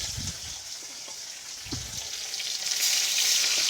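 Bhola fish pieces fry in hot oil in a pan over a strong gas flame, a steady close sizzle that grows louder toward the end, punctuated by a couple of soft pan knocks.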